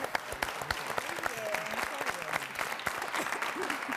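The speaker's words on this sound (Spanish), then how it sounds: "un bonito. aplauso a nuestros bailarines" A television studio audience applauds dancers with steady, fairly quiet clapping from many hands, a voice speaking faintly over it.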